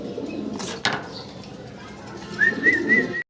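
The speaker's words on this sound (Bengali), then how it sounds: "দর্শক ভিডিও স্ক্রিনে আমরা দেখতেছি ব্ল্যাক কালারের একদম ইউনিক একটা কবুতর" Black fancy pigeons with white bars coo softly over a low background murmur, followed near the end by a short run of three brighter call notes.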